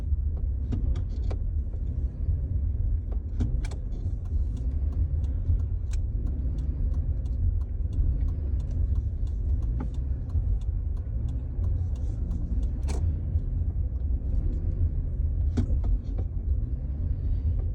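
Car with a wheel speed sensor and traction control fault hesitating and failing to accelerate, a low steady engine rumble heard from inside the cabin with scattered small clicks and knocks, no talking.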